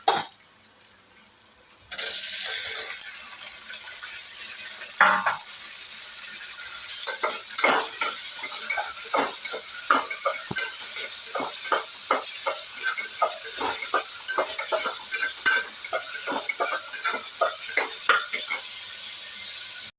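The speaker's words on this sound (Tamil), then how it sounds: "கருவேப்பிலையும் மிளகாவும் போட்டு சேர்த்து வதக்கிக்கோங்க" Curry leaves and chillies sautéing in oil in a frying pan, a loud sizzle breaking out after a quiet start, then steady frying with repeated stirring clicks and scrapes.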